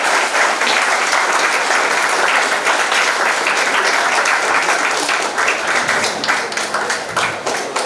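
Audience at a plant-based cooking workshop applauding Chef Vishu: dense, continuous clapping from many hands, loud and close, holding steady for the full stretch before easing slightly near the end.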